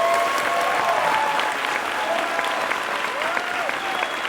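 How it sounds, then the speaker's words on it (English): Theater audience applauding the cast at a Tribeca Film Festival premiere: sustained, dense clapping from a large crowd, loud and even across the whole stretch, with a faint whistle or two rising through it. "can we get a round of applause for that cast of this film"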